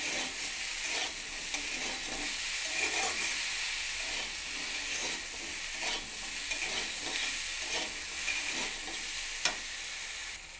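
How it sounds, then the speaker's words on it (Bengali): Potato and eggplant pieces fry with salt and turmeric in a pan, giving a steady close sizzle and hiss with occasional stirring scrapes, no voices heard. "নুন হলুদ একসঙ্গে দিয়ে আবার আলু বেগুনটাকে একসঙ্গে ভেজে নেব।"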